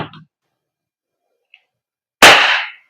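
An EMG Salient Arms International BLU S airsoft gas blowback pistol fires a single sharp, loud crack with a short hissing tail, close by, after a faint click and a brief bit of earlier noise.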